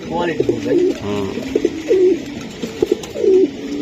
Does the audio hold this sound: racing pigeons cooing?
yes